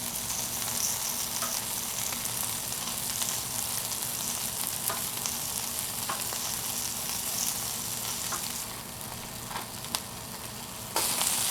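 Chicken wings sizzle steadily on a Blackstone griddle, a loud, continuous frying hiss that holds throughout, with a few faint clicks and one brief shift near the end and no talking.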